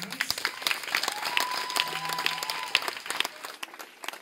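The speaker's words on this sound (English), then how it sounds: "Yes, you can give yourselves a round of applause." Audience at a school inter-house drama competition applauding in an outdoor venue, a steady wash of clapping lasting several seconds with sustained tones and a voice faintly mixed in.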